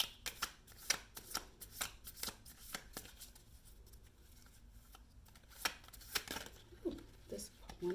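Tarot cards shuffled by hand before a two-card draw, heard as close, crisp riffling and slapping bursts in an irregular rhythm that thin out toward the end.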